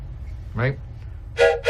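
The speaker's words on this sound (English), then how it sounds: "Oh, you know what that is? That is a train whistle," A toy train whistle is blown in an office. It gives a short warbling toot and then a second, brighter two-tone blast, loud and close. Someone speaks briefly beforehand.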